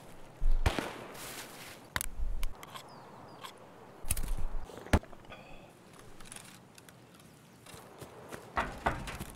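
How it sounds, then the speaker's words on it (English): Distant FAL rifle shots from a sniper scav in Escape From Tarkov ring out as several sharp, spaced cracks over a quiet outdoor backdrop with faint footsteps and movement between them. "It's an FAL, dude. Sniper scav shooting at somebody."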